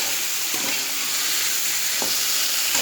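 Food sizzles continuously in a hot pan during home cooking, with a couple of brief scraping stirs cutting through the steady frying hiss; no one speaks.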